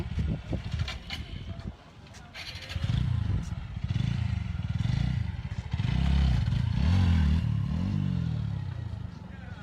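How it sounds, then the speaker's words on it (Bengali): A motorcycle being ridden on a rural road, its engine droning and rising in pitch as it accelerates, with wind buffeting and rattling, heard up close from on board. "কত সুন্দর বাইক চালাইতেছে"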